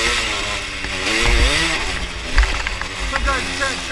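Enduro dirt bike engine running on a trail, a close buzzing motor with wavering revs and occasional bumps, with a voice talking over it much of the time.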